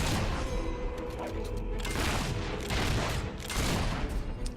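Battle gunfire in Fable III, dense overlapping volleys of shots and booms rolling continuously with bursts of louder cracks throughout.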